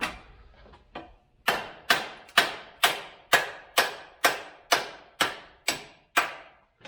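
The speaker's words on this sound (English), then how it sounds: "The old handy dandy hickory hammer." A hickory-handled hammer strikes the front end of an Allis Chalmers CA tractor, a few soft taps followed by about ten sharp, evenly spaced metallic blows, each ringing briefly before the next, close and loud with no talking.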